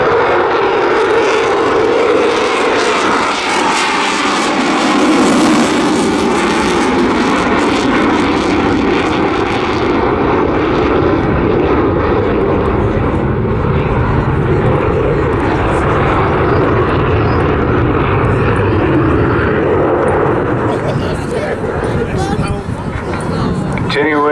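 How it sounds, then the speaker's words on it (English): A Typhoon FGR4 fighter jet flying slowly at a high angle of attack during an airshow display at Southport, a loud, sustained roaring engine rumble that fills the whole stretch, with a commentator's voice running over it. "Brought the jet right back to just 120 knots"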